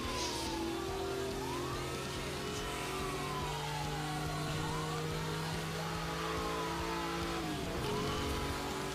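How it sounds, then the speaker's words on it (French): Porsche 911 Turbo engine droning steadily in the Need for Speed Hot Pursuit racing game, with sweeping tonal sirens from pursuing emergency vehicles rising and falling over the constant game audio. "cette 911 Turbo est vraiment sympathique à conduire"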